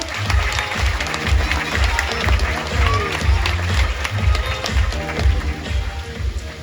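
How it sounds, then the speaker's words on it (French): Zoo audience at a sea lion show breaking into sustained applause, a dense crowd clatter of clapping that carries steadily throughout, with some voices mixed in beneath it. "je pense qu'on peut les applaudir bien fort pour leur participation"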